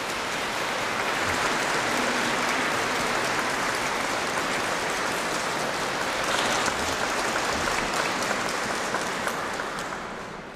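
Dense, steady audience applause inside a church during a gathering, a broad wash of many hands clapping continuously, filling the space without pause.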